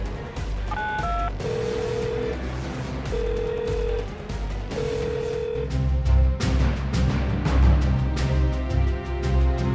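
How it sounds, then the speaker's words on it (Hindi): Several dial tones beep in short steady bursts over a busy, noisy background, a run of mobile phone keypad tones dialing 15 followed by longer held notes. "फौरी तौर पर मोबाइल फोन निकालकर 15 से राबिता कायम कर लिया"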